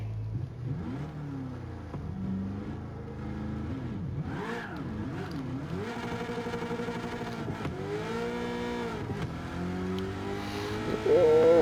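A Gran Turismo 7 race car launches from a standstill and accelerates hard, its engine revving up through successive gear shifts with rising, sweeping tones, loud and continuous throughout.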